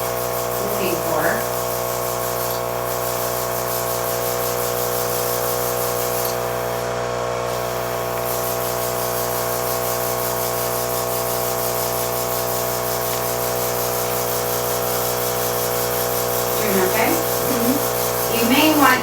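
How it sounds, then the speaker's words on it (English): A makeup airbrush sprays color onto a paper towel, giving a steady, close hiss that runs almost unbroken. A faint whistling tone sits beneath it, and brief vocal sounds come through near the start and end. "Always spray a little color onto your paper towel"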